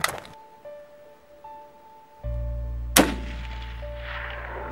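A single sharp gunshot cracks out during outdoor target shooting, loud and close, followed by a ringing decay and a low steady hum underneath.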